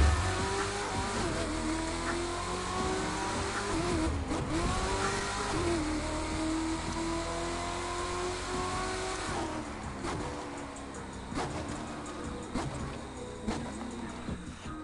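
Car driving in the racing game The Crew 2 during a late-night cruise, a steady engine drone that rises and falls through gear changes, with occasional tire noise, loud and continuous for about fifteen seconds, with no talking.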